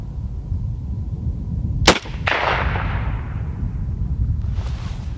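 Single shot from a Lee-Enfield Parker-Hale rifle in .303 British, a sharp, loud crack followed by a rolling echo that fades over outdoor background rumble.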